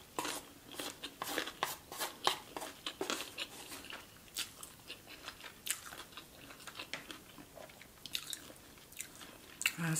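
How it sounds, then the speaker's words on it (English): Spicy Samyang Buldak ramen noodles being bitten and chewed up close, a steady run of wet, crunchy mouth sounds and smacks repeating throughout with no talking. "Last noodle bite."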